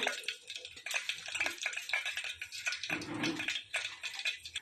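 Whole spices, bay leaf and fennel sizzle in hot ghee and oil for vegetable pulao, a crackling, popping fry with a spoon stirring through it, close and moderately loud, no voices.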